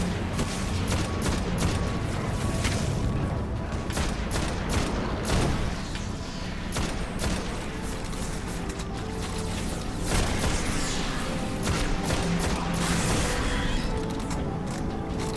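Rapid bursts of gunfire from the video game Destiny's Rise of Iron quest line, dense clattering shots with mechanical clicks and occasional booms, sustained and close, with no talking.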